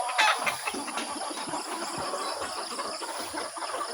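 A white-tailed gamefowl rooster clucks in a backyard, soft repeated clucks close by over a steady background hum and rushing noise.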